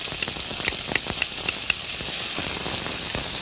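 Garlic and sweet onion sautéing in oil in a pan give a steady close sizzle with scattered small pops and crackles throughout, alone with no voices.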